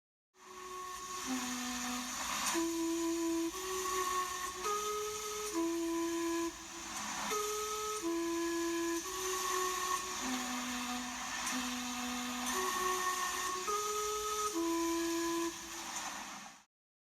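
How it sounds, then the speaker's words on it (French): A steam clock's whistle chime plays a slow tune of sustained, breathy whistle notes in sequence over a continuous hissing roar, in western Canada. "voir les carillons s'activer par la seule énergie de la vapeur"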